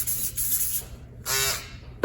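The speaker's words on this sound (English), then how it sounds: "I'm gonna go ahead and I'm gonna hit it with a cleaner just to make sure" Cleaning spray hits the cutter of a Wahl shaver in short hissing bursts, with a brief louder burst near the middle and a sharp knock at the end; no one speaks.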